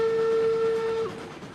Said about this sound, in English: Another confident whistle.